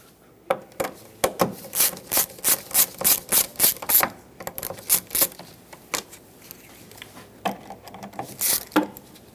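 Plastic push clips on a 2008-2012 Jeep Liberty front bumper cover being unthreaded and popped out with a trim tool, giving repeated close scraping and rubbing bursts in an irregular rhythm with brief pauses.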